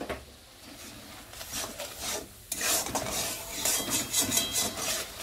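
A spatula scraping and stirring a spiced egg and poppy seed (dim posto) mixture with Kashmiri chili powder in a pan, steady rasping strokes with sizzling, growing busier and louder partway through, close up and without talk.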